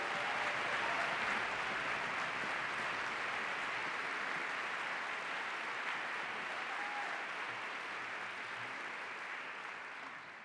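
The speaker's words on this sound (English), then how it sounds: "Let's give them another round of applause, please." Sustained audience applause after a youth orchestra performance, a dense wash of many hands clapping that stays steady and loud throughout, easing only slightly at the very end.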